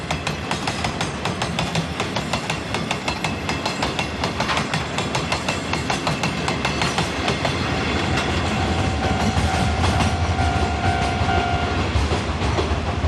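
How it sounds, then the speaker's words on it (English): A freight train loaded with limestone from the Mount Buko quarries rolls past close by, its wheels beating a steady, loud clickety-clack, with a thin wheel squeal rising briefly in the latter half. "Ah, it's a freight train. Carrying lots of white rocks."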